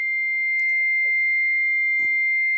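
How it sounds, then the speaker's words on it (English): A fax machine on a phone line sounds a single steady high-pitched tone that holds unbroken the whole time, with faint clicks and murmurs of line noise underneath. "That's a fax phone."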